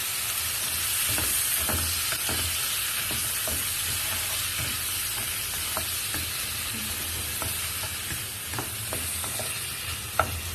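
Tomatoes fry in a pan with a constant close sizzle and hiss, while a utensil stirs and scrapes at intervals, producing irregular clicks and knocks over the frying.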